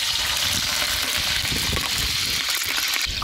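Curry leaves dropped into hot ghee and coconut oil fry with a loud, continuous broadband sizzle and spatter, steady throughout and close by.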